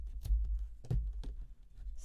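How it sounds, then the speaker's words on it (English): Scissors snip through craft material during a hot-glue farmhouse decor project: three sharp, close cuts spaced out over a couple of seconds, with quiet handling noise between them. "I'm just going to snip it off at a steep angle"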